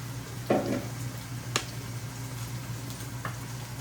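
A thick, fatty steak, about an inch, frying in a pan gives a quiet, steady sizzle broken by a few sharp pops and crackles, with no one talking.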